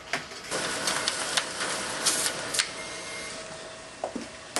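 A malfunctioning office copier and fax machine whirs with a steady mechanical hiss, broken by irregular clicks and clunks, heard close up with no one talking.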